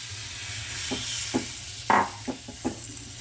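Tamarind pulp being stirred in a hot pan with black mustard seeds, a steady low sizzle broken by several short scraping strokes of the spoon, one louder near the middle, with no talking.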